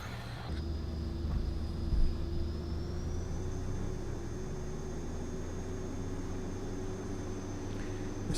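Steady drone of a Pilatus PC-12 turboprop engine in X-Plane 11, a constant low hum with a thin high whine that rises slightly in pitch, heard alone from inside.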